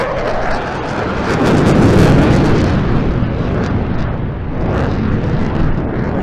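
A Eurofighter Typhoon at an airshow display roars in full reheat, a loud, continuous, broadband afterburner blast that swells and rumbles close by with wind buffeting.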